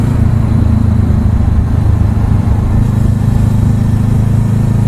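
A motorcycle rides along the road with a loud, constant engine roar and heavy rumble held steady throughout, recorded up close without any talking.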